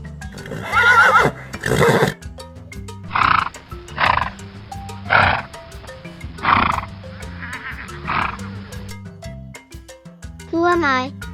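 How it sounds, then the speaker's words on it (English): A horse whinnies and neighs in a series of loud, separate calls spaced a second or two apart, with a voice speaking between some of them. "I am a horse."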